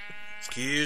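A single sheep in a Minecraft-style game lets out a clear, close bleat that swells near the end of a brief moment, with a voice talking just before it.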